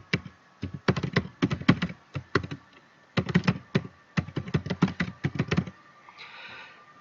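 Keystrokes clatter on a computer keyboard in quick bursts as an email address is entered, with two runs of rapid taps separated by a short pause, then a soft faint rustle at the end.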